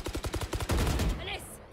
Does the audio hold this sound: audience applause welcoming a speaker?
no